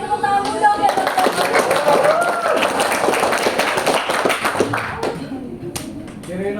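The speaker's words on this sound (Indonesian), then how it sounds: "Beri tepuk tangan dong ya." An audience at a vocational school public speaking event claps hands in a burst of lively, uneven clapping that gradually thins out, with voices talking over and after it.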